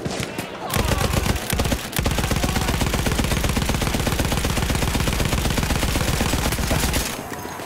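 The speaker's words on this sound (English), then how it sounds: "Laying down some cover fire, that's suppression fire" Suppressive gunfire in Battlefield 1, a long continuous rapid rattle of machine gun shots, loud and close, running for about six seconds after a few opening shots.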